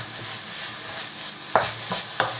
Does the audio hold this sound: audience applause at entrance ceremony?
no